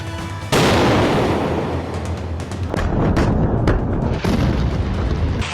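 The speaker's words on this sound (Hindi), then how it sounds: "सीरिया के अलग अलग विद्रोही गुटों ने एक साथ मिलकर ईरान समर्थित असद सरकार और मिलिशिया ग्रुप पर ऐसा बारूदी हमला बोला ह" Heavy explosions and artillery fire during a rebel assault in Syria, a loud sustained roar with repeated sharp booms and blasts rolling through, no voices.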